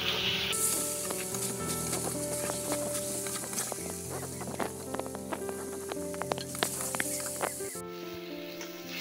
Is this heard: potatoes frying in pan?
yes